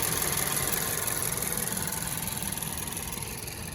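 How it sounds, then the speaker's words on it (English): A 2012 Ford Focus engine idles at 96,000 miles, a steady, even hum with a faint rhythmic pulse, heard up close and alone without talk. "Take a listen to the engine while it's running."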